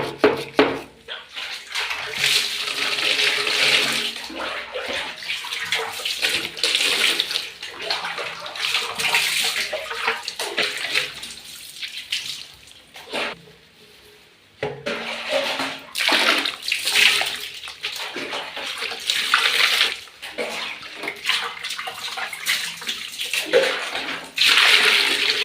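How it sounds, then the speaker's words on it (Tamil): Water pours and splashes into a toilet bowl as it is rinsed after scrubbing, a continuous close sloshing gush with brief breaks and surges, no voices. "இப்போ தண்ணி ஊற்றி கழுவிடலாம்"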